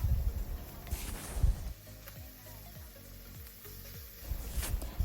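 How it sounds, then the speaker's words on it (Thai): Bacon frying in a pan over low-to-medium heat, a soft steady sizzle with faint stirring clatter, starting out mixed with background noise and then running quieter and continuous. "ก็เอาเบคอนลงก่อนนะคะ เพราะว่า เบคอนเนี่ยมันจะมีน้ำมันที่ติดมานะคะ"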